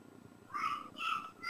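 A pet cat purrs softly and close by, drawn in by the rattle of dice, in two short breathy bursts against a quiet room.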